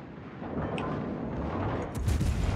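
A heavy naval gun salvo fires in the World of Warships naval battle game: a dense, rumbling roar sustained through the clip, with a sharper, louder blast near the end.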